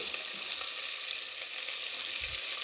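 Drumstick and sliced onion for a kurma fry in a pan with a soft, even sizzle, quiet and close, with no talking.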